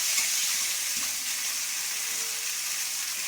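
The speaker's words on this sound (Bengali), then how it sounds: "আমি কাঁচা লঙ্কাটা দিয়ে দেবো একটা ফোড়ন।" Green chili and five-spice tempering sizzle steadily in hot oil, a continuous close frying hiss with no talk.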